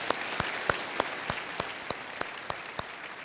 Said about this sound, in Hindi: बहुत बहुत तालियों के साथ एक बार फिर इनका